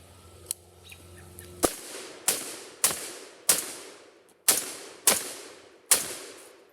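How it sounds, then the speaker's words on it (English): A CMMG Mk47 Mutant rifle fires from a shooting bench: seven loud, sharp shots in an uneven rhythm, each ringing off with a short decay. A faint click comes before them, and no one speaks. "So I'm going to shoot it some more."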